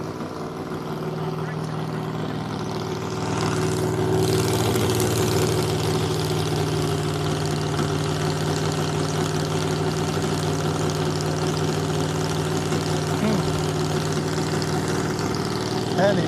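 A 1,500-horsepower 5.4-liter race car engine idles close by at a speed festival, a steady deep rumble with a lumpy, loping rhythm that swells slightly louder after a few seconds and holds for the rest.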